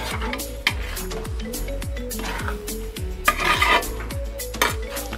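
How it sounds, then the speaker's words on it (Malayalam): Curd is stirred through Kerala avial vegetables in a pot, making rhythmic close scraping and soft clinks of a spoon against the vessel, with occasional louder knocks. "നമ്മളിപ്പോൾ ഒഴിച്ചിട്ടുള്ള ഈ തൈര് എല്ലായിടത്തും എത്തുന്ന രീതിയിൽ നമ്മൾ നന്നായിട്ട് തന്നെ ഇതൊന്ന് മിക്സ് ചെയ്ത് കൊടുക്കുകയാണ്."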